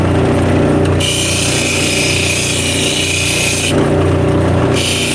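A power tool buffs scratches off the back of a polished stone, a loud continuous grinding whine with a higher hiss that drops out briefly and returns.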